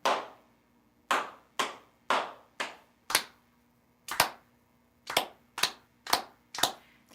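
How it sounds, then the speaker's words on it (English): Hand claps in a steady body-percussion rhythm, eleven sharp, close, dry claps grouped in short patterns with brief silent gaps, no voices. "Say and clap."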